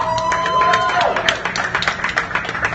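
Applause from a dinner crowd at a Knott's Berry Farm event, a steady patter of many hands clapping, fairly close and loud, with faint voices and a whistle.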